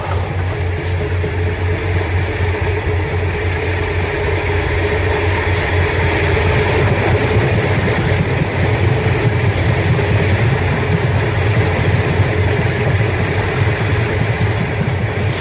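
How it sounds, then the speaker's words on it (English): The Silver City Comet train pulls away from Broken Hill station in a steady, continuous rumble and rattle that holds close and loud throughout, with no voices over it. "It may appear a little weary now as it quietly defers to the larger train and leaves the Broken Hill station on its 3 times a week service."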